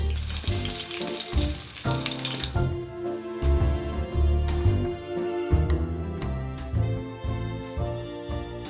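Tofu deep-frying in hot oil for Japanese agedashi tofu gives a dense, loud sizzle for the first few seconds. The crackle then thins out under steady background music.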